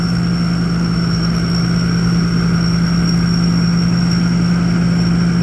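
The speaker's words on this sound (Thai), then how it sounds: "ครบสุดแล้วครับผมคันนี้นะครับเครื่องยนต์ Hino" Close, loud and unchanging, a Hino G84 diesel engine keeps running with a deep throbbing hum and a faint whistle-like tone above it. No voices can be heard over the engine.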